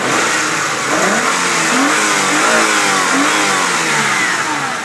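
A 1999 Hyundai Sonata engine with freshly changed spark plugs revs up and holds at a steady, smooth mid-pitched roar, close and loud, with repeated rising swells and no talking.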